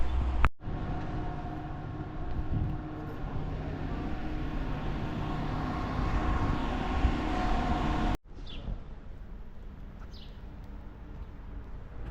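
A steady, rumbling train ride in Romania bound for Bucharest, with low mechanical drone and clatter, cutting abruptly to a quieter interior hum.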